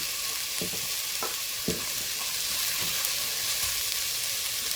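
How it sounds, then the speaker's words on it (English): Green paprika and garlic fry inside a rice cooker, a continuous hiss with a few sharp scrapes and knocks as the pieces are stirred, close by and without talk. "other ingredients that you also want to fry. So in this case we add some paprika, green paprika, and some garlic"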